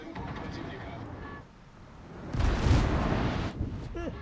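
Naval gunfire from warships in a battleship video game, a heavy rumbling boom swelling and then fading over about a second, mixed in with steady commentary from a person talking.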